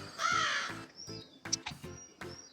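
A crow caws several times in a quiet setting, a loud harsh burst first and then shorter calls, with no one talking.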